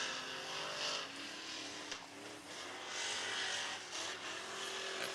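Race cars circle a dirt speedway track at Valley Speedway, with a steady engine roar that swells and fades as they pass, heard at a distance with no talk.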